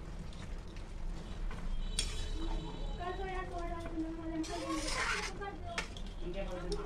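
Maggi noodles with butter being stirred in a pan, soft scraping and light clinks of a spoon against metal, with someone talking over most of it.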